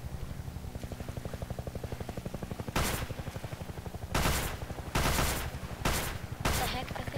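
An automatic gun fires in Garry's Mod: rapid machine-gun bursts, a steady rattling stream under a background hum, with several louder, sharper volleys cutting in toward the end.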